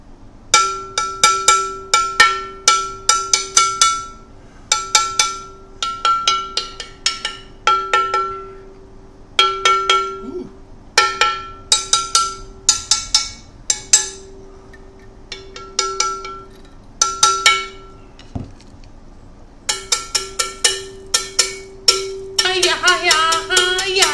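A cowbell is struck in steady rhythmic patterns, sharp metallic hits in bursts with short pauses between phrases, clear and close with no talking.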